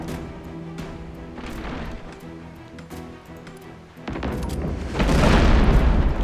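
In the naval combat game Abandon Ship, cannons boom at enemy sails, thuds building into a heavy rumbling barrage near the end, with no voices.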